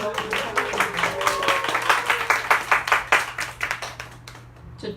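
At a book talk the audience gives a round of applause, with distinct close claps in a quick rhythm that slowly thin out and fade toward the end, leaving a faint hum.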